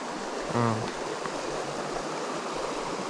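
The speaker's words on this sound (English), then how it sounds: "So we're down at this stream right here." A mountain stream on the TNGA bikepacking route flows in a steady broadband rush, close and continuous, with a brief low hum or voice-like sound early on.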